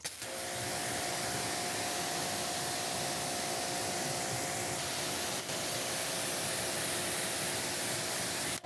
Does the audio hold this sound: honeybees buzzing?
no